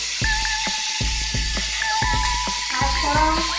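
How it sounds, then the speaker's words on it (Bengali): Five-spice seeds and chilies crackle in hot oil in a wok for a taro curry, a constant close sizzle broken by regular clinking stirs against the pan. "তেল দিয়ে দিলাম কড়াইয়ে, পাঁচফোড়ন,"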